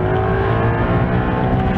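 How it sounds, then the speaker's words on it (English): Maserati Quattroporte Executive GT V8 engine roaring loudly and steadily at close range as the car drives fast down the road, with no talking. "So this is the Maserati V8 engine."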